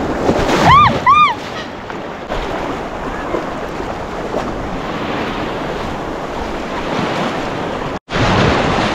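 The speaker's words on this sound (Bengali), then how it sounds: "বিশাল বড় বড় ঢেউ না থাকলেও" Sea waves wash steadily onto Bakkhali beach, a continuous broad roar of surf mixed with gusty wind buffeting the microphone, and a couple of brief high chirps near the start.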